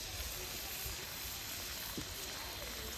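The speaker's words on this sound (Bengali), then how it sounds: "একটু নাড়াচাড়া করে নারকেল কুচিটা ভেজে নেব।" Shredded coconut frying in hot ghee and mustard oil, a steady, even sizzle throughout, close and constant, with no breaks or clear individual pops.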